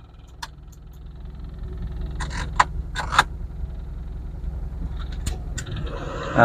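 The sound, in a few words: Perodua Kancil car engine running with air conditioning on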